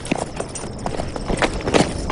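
Horse hooves clip-clop at a steady walking rhythm in a video game, fairly close and loud against a busy, noisy background with no clear talk.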